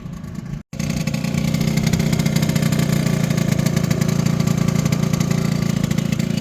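An Aprilia SR50R 50cc scooter engine runs steadily at idle with a loud, close, buzzing two-stroke drone after a brief cut at the start, continuing without talk.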